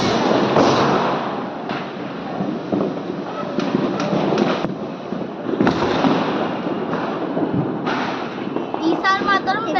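Firecrackers burst during a Diwali celebration, repeated sharp cracks and pops over wind noise and crowd chatter, some near and loud, others fainter, with a whistling crackle near the end and people talking throughout.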